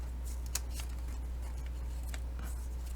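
Scissors cutting a piece of paper for an ephemera folio, several short crisp snips in a loose rhythm, close and quiet over a low steady hum.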